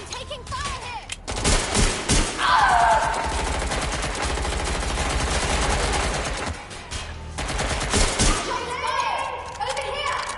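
Gunfire in a PS4 video game, rapid automatic bursts and thudding shots rattling continuously for several seconds while players shout over the noise.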